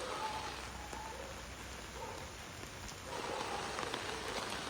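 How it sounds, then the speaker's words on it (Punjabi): Steady, heavy rain pours down in a dense, continuous hiss, growing a little louder toward the end, with no voices. "ਮੀ ਹੋਰ ਤੇਜ਼ ਹੋ ਗਿਆ ਅੱਜ ਹਟਣ ਦਾ ਨਾਮ ਨਹੀਂ ਲੈ ਰਿਹਾ"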